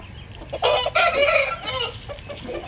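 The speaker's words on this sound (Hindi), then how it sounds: "काफ़ी एक्टिव मुर्गा है ये।" An Aseel rooster of the Mewat breed crows loudly and close, then breaks into several short clucks, with no talking over it.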